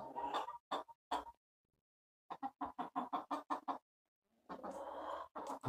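An indoor chicken clucks in short bursts, first a few separate notes, then a quick run of rapid clucks, then a louder, longer squawking stretch, close and clear against quiet pauses.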